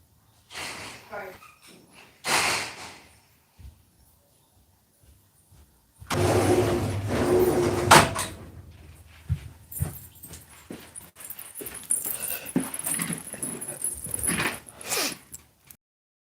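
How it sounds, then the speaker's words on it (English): A dog outdoors snorts, whimpers and gives short vocal bursts in scattered clusters, fairly close, with a person talking over parts of it and some rustling in between. "I just can't have that dog fucking just out there barking all fucking all live, right?"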